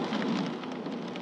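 Rain falls steadily on a car, a dense close patter with a low drumming rumble, continuous and fairly loud.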